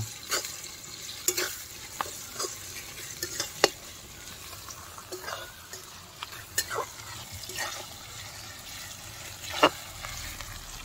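A spoon stirs ginger, garlic and green chili paste in a hot pan, making repeated sharp scrapes and knocks over a soft, steady frying sizzle.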